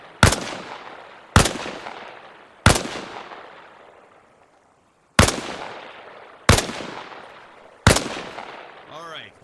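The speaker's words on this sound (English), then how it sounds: "Position yourself behind the wall and lean out while firing." Single rifle shots fired from cover behind a wall in Arma Reforger, six loud sharp cracks at irregular intervals, each with a long echoing tail fading out, and a brief warbling electronic tone at the end.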